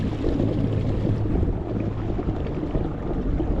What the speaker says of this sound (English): You can hear that prop coming out of the water when I turn.